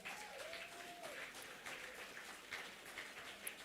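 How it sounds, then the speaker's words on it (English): Steady applause from a crowd, a dense patter of clapping that holds evenly throughout at moderate, slightly distant loudness. "give yourselves a round of applause"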